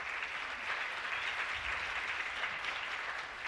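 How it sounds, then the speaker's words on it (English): A concert audience applauds a lap steel band, steady clapping sustained throughout at a moderate distance, with no talking over it. "Let's give them a big round of applause."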